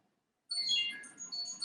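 A phone ringtone starts abruptly after a moment of silence, a bright chiming tone that rings on for over a second.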